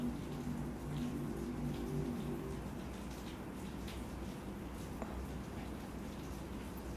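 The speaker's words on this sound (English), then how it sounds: "It's raining, honey." Faint rain patters and drips outdoors in a soft, continuous wash, with a low hum under the first few seconds and no speech.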